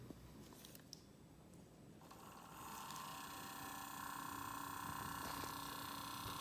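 A small electric motor driven by a zinc bromine battery during a discharge test spins up with a steady high whine and faint mechanical whirr, growing louder after a couple of seconds and holding constant.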